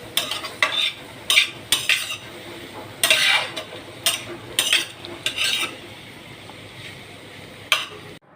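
A spoon scrapes and stirs curry frying in a pan on a stove at low heat. Sharp metallic scrapes come in irregular bursts over a soft, steady sizzle, close and clear, with no talking.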